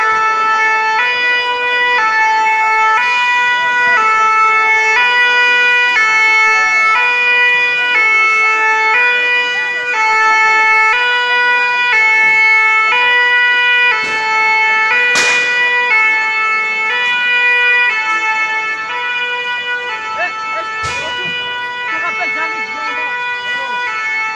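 Loud fire engine sirens wailing steadily in a repeating two-tone pattern on a Paris street during a yellow vest protest, close, with a couple of sharp bangs and crowd noise underneath.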